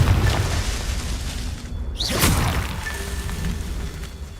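A Confringo blasting curse bursts in a Harry Potter video game: a muffled boom with a whooshing swell near the middle, set over steady low rumble, alone without speech.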